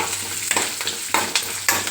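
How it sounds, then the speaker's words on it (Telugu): Green chillies, cashews and curry leaves fry in hot oil for a pulihora tempering, giving a steady close sizzle with soft stirring scrapes every half second or so and no voices. "ఇప్పుడు ఇందులో పచ్చిమిరపకాయలు, జీడిపప్పు, కరివేపాకు వేసి వేయించుకుంటాం."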